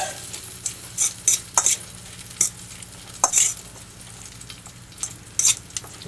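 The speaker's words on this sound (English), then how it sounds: "We mix this up." Wrap filling is stirred in a bowl, giving a series of sharp, close scraping and clinking strokes in an uneven rhythm, set over a faint sizzling background.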